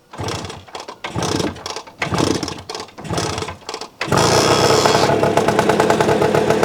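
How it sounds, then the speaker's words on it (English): Several short bursts of a cold 1959 Lambretta LI125 scooter with a 185cc kit sputtering as it is kick-started, then it catches and runs with a steady, rapid clattering idle, close by. "So if we kick it, in theory it should start"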